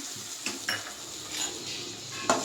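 Lemon rice with turmeric-tinted lemon juice being stirred in a pan with the stove off, giving close metallic scrapes and clinks of a spoon over a faint steady hiss.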